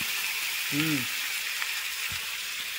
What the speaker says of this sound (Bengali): আর এই যে দেখো আলু ভাজা হচ্ছে এখন।